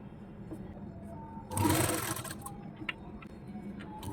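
A sewing machine runs a seam along the edge of a fabric strip while a kaftan is being made. It whirs in a short loud burst partway through, with quieter handling noise before and after.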